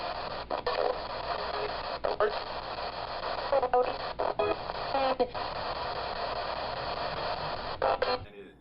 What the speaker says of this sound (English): it's called a spirit box. They use them to sweep radio frequencies.